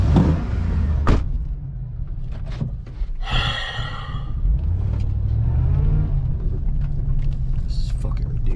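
A supercharged Chevrolet Tahoe truck idles and rumbles low while turning around, someone talking briefly over it with a few clicks and a short hiss.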